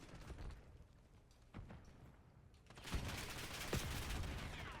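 Video game explosions and gunfire play through an Audeze Maxwell gaming headset, with bursts of shots and booms becoming denser and louder in the second half over a rumbling background.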